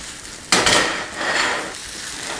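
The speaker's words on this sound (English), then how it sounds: "add my 4 large sliced mushrooms. Just going to give these a little flash here in the pan" Four large sliced mushrooms hit a pan with olive oil in a sharp burst of clatter and sizzle, followed by a softer, steady frying hiss.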